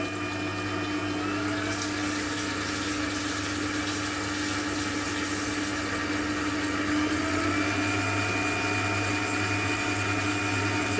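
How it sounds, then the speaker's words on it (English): An electric beater whirs steadily in a bowl of chocolate cookie dough, a constant motor hum with a faint mechanical whine running unbroken and fairly quiet throughout. "if you keep beating it and bring the speed up on your beater, it'll eventually then come together as a nice dough"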